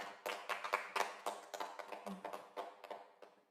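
Scattered clapping from a small audience at an online forum on developing a student self-governance school, a few hands tapping out loosely for about three seconds before fading, with no talk over it.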